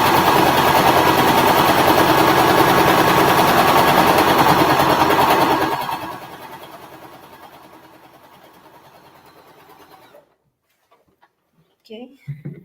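A sewing machine stitches a quilting seam in a loud, fast, steady buzz for about six seconds, then slows and fades into quiet, with a few faint clicks and handling sounds at the end.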